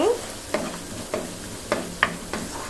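Broiler chicken curry spice paste with coriander powder being stirred and fried in a pan, a soft steady sizzle under regular spoon scrapes roughly every half second, close and moderately quiet.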